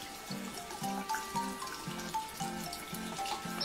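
A tap runs to fill a drink for a parrot, giving a quiet, gurgling water flow that pulses in a regular rhythm at close range.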